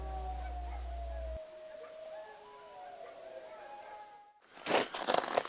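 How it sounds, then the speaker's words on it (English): Sled dogs howling together outdoors at about 40 below zero, several long wavering howls overlapping at a moderate distance, followed by a burst of louder rustling noise near the end. "You curl up and let the dogs sing you to sleep."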